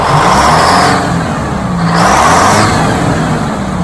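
A cold bus engine revs up close and loud, rising and falling in two surges over a steady rumbling drone.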